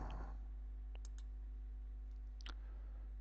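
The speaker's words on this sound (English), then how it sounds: "Click Save." Several faint computer mouse clicks, single taps and a quick double, land on a Save button over a steady low electrical hum in a quiet room.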